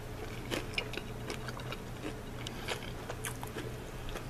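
Someone bites into and chews a hot, crunchy fried Mississippi slugburger with pickle, giving quiet close-up crunching and chewing sounds in an irregular rhythm.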